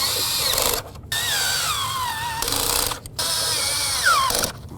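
Spark plugs on a 2008–2012 Jeep Liberty being snugged with a power driver: close whirring bursts that rise and fall in pitch, broken by two short pauses.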